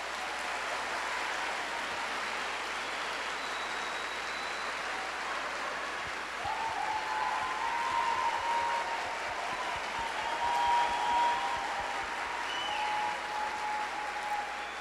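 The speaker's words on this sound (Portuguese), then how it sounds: "que a gente possa agraciá-los com a salva de palmas" Long, steady applause at a university graduation ceremony, a broad rain-like patter of many hands that swells slightly midway, with faint whistles and cheers rising over the clapping.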